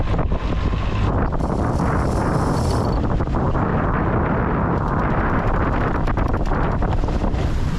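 Strong wind of about 80 knots roars over a sailboat at sea, a loud, continuous rushing buffet with gusty surges and no talking.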